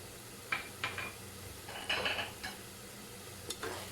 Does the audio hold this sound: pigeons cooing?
no